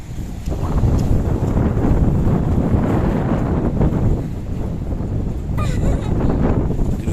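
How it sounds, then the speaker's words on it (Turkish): Strong wind, good for kite flying, buffets the microphone in loud, continuous gusts, with a low roaring rumble throughout and faint rustling underneath. "rüzgarın şiddeti yani uçurtmak için gayet ideal"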